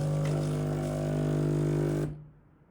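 A Philips LatteGo coffee machine running a cleaning cycle gives a steady mechanical hum with a strong low tone for two seconds, then cuts off abruptly into near silence.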